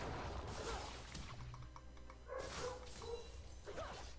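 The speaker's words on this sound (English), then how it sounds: "My dog is barking." A dog barks in the background during a League of Legends game session, with a few short yips and bow-wows over steady game sound.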